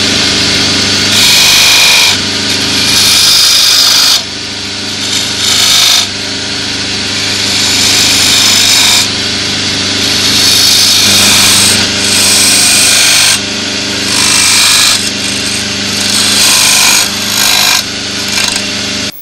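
Continuous loud whirring of a wood lathe as a tool cuts a bead in wood, with rough scraping bursts that rise and fall in short passes over about twenty seconds.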